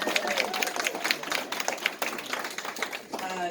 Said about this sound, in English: I think they deserve a round of applause just for that.